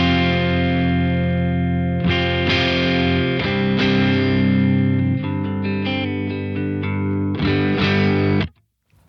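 A PRS electric guitar played straight into an M0 amp with a light crunch, strummed chords ringing loud and sustained with a few fresh attacks, then cut off abruptly near the end.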